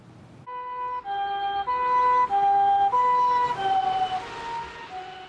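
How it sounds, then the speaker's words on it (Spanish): An ambulance siren wails nearby, alternating between two tones in a steady up-and-down cycle, loud and clear with no talking. "cuando oyes el sonido de una ambulancia"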